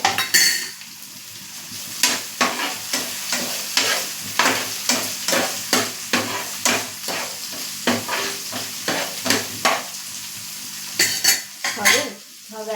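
Onions fry golden in a pan as finely chopped tomato is added and stirred with a metal spoon, giving repeated sharp clinks and scrapes over a constant sizzle, close by and clear.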